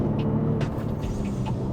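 A Maserati Quattroporte S Q4 luxury sedan with a twin-turbo engine, a steady low engine rumble heard from inside the car, loud and close with faint ticks and whooshes over it.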